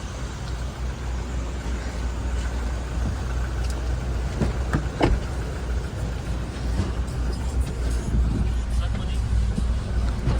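Steady rumble of a car interior while riding, with constant low road and engine noise throughout and people talking over it.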